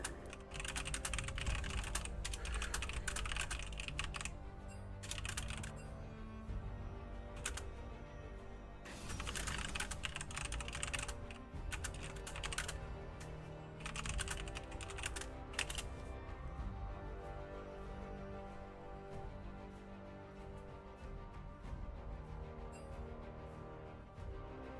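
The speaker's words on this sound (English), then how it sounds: "We don't need to keep on typing. I know that it comes through on the microphone." Computer keyboard typing, rapid and continuous clacking of keys close to the microphone, with bursts of faster strokes and short pauses, no talk.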